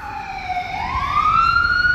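An ambulance siren wails on the street, its tone sliding slowly upward and growing louder as the vehicle approaches, with faint traffic rumble beneath.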